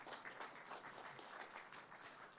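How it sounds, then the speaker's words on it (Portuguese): An audience at a regional broadcasting seminar applauds for André Sintra, a steady, fairly distant patter of many hands clapping with no talk over it. "uma salva de palmas para o André Sintra."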